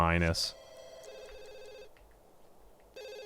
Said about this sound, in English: Answer the phone, Juan.